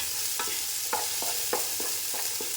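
Carrots and beans sautéing in a pan, a steady hiss of frying with about eight evenly spaced scrapes of a spoon stirring through the vegetables, close and alone, no talk.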